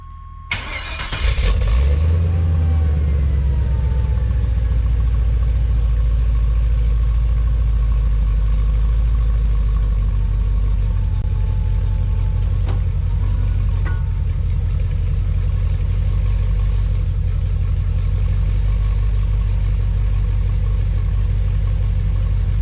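LS-swapped 1988 Firebird V8 cranks and fires up, then settles into a loud steady lumpy idle with its rear wheels spinning in the air, close by and unbroken for about twenty seconds, with no talk.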